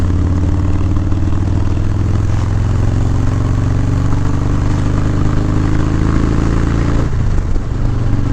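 Harley-Davidson motorcycle engine roaring on a Sunday ride, a loud, unbroken drone mixed with wind rush that shifts slightly in pitch near the end.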